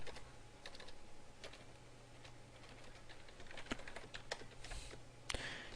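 Typing on a computer keyboard while entering code, with close, irregular key clicks and taps running steadily throughout and a couple of sharper louder keystrokes near the end.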